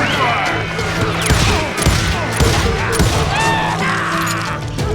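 Gunfire in the Western video game Call of Juarez sounds as a dense, chaotic barrage of shots, crashes and thuds during a fight, loud and constant, with voices shouting in the game.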